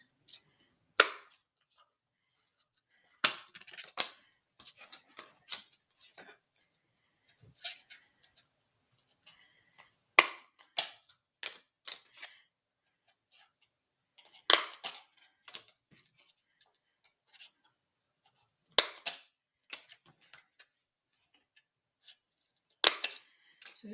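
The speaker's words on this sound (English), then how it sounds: "So just go through with your tags and punch some holes in them" Paper gift tags punched with a small Fiskars hole punch, giving sharp isolated clicks and snaps spaced irregularly every few seconds against near silence.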